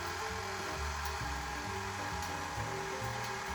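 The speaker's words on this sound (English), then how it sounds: "using a mixer, we're going to slowly beat in 1 piece of butter at a time" An electric mixer beats butter, added one piece at a time, into coconut cake batter, giving a steady whirring drone with shifting low tones throughout, close by and without talk.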